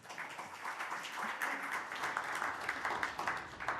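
An audience claps at a legislative public hearing on real estate sales agency reform as a real estate analysis society president is welcomed, a moderate, fairly distant, continuous patter of applause.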